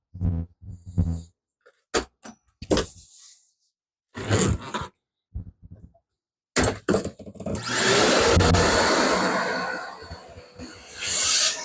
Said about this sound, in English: I'm going to vacuum up some of that debris.